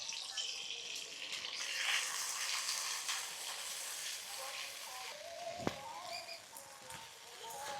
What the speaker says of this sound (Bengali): ওই তেলেই টমেটো কুচোগুলো দিয়ে দিচ্ছি। টমেটোটা একটু ভেজে নিয়ে জিরের বাটনাটা দিয়ে দিচ্ছি।